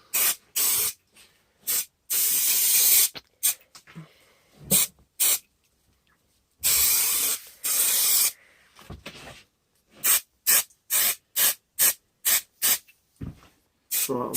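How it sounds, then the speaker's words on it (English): Spray adhesive sprayed from an aerosol can while building a bass trap, heard as a series of short and longer hissing bursts with brief silences between them, close and fairly loud. "Just put some spray adhesive along."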